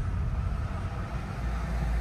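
A lorry passes on a road at a driving-test area, a steady, loud low engine rumble with broadband road noise throughout, no voices.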